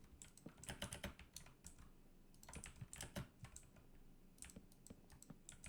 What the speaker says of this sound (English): You can just hear my keyboards clicking them back.